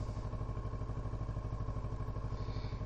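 Motorcycle engine running steadily up close on a farm, a rhythmic low thumping throb with clattery mechanical texture for the whole stretch.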